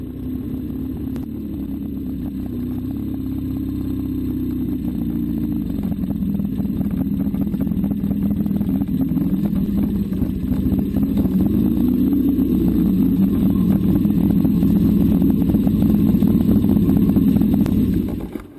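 A 1970 Triumph Bonneville motorcycle engine drones continuously while riding, a steady, loud throb that builds slightly over about eighteen seconds with wind rush and no talking.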